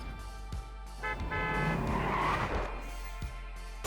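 A taco truck card effect in Marvel Snap plays as a short burst of car-like engine and tire-screech sound layered over game music tones, without talk.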